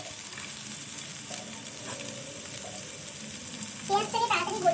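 Onion frying in oil with garlic and chili for oats khichuri makes a soft continuous sizzle, with stirring and a brief muffled voice rising toward the end.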